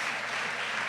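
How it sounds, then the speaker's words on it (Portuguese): Church congregation applauding during a service, a brief, even wash of clapping heard at moderate distance with no clear individual claps standing out. "Dê um aplauso para ele."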